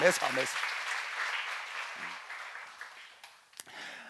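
A church congregation at a seminar on Acts breaks into applause after a brief spoken phrase, a broad wash of clapping that fades gradually over a few seconds, ending with a couple of isolated claps.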